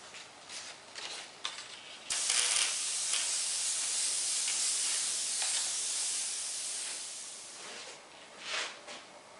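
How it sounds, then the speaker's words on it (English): Spray gun laying down a loose blue fog pattern for realistic ghost flames: a steady airy hiss that runs for several seconds, with brief puffs and pulses around it, close up and with no talking. "I spray this blue back across it"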